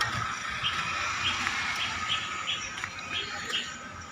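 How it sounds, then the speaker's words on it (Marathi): Faint, regular chirps of a sparrow perched on a pole repeat every half second or so, set against a steady wash of outdoor background noise. "वरती डांबावरती एक चिमणी बसलेली आहे आणि ती आवाज करत आहे"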